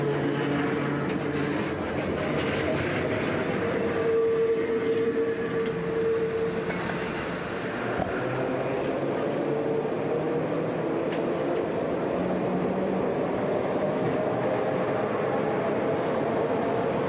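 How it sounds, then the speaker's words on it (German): An old Gotha-built tram runs through Jena, a continuous rumbling ride with wheel and track noise and a few faint squeals, steady and close throughout. "Die Geräuschkulisse der alten Züge spricht für sich."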